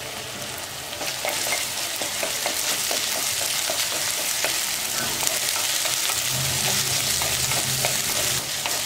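Onion, tomato and ginger-garlic paste sauté in a pan, a constant close sizzle broken by repeated scraping stirs, with no voices.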